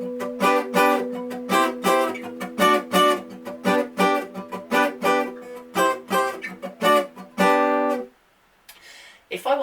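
Acoustic guitar strums a 1-1-4-5 chord progression in a jig rhythm, with chords cut short by muting, giving a bouncy run of choppy strokes that ends in a brief pause.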